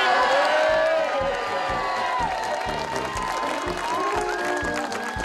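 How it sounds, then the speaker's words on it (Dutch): Loud applause and cheering from a crowd at a village victory celebration, dense and continuous, with shouts and voices mixed in throughout. "En ik weet zeker dat het een daverend applaus waard is"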